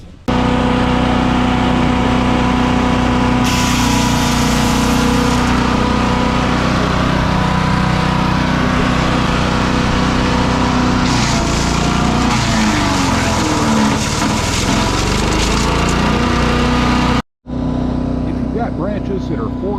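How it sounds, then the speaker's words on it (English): Champion wood chipper running loud and steady close by, its engine droning continuously as branches are fed through and shredded, with a brief cut-out near the end. "So we'll trim these up and feed them in the shredder."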